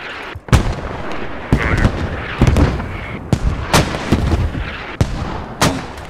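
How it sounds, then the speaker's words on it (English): A hail cannon fires in the military shooter Squad, with a series of heavy, sharp booms at irregular intervals over a rumbling battlefield background, close and loud. "Oh my god, that was great hit with the hail cannon."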